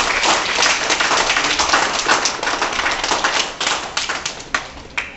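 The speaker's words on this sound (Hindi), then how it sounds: "सब लोग कस के ताली बजाए यार" At a karate championship prize distribution, an audience claps loudly and close by, brisk clapping from many hands that stays strong before thinning into scattered individual claps toward the end.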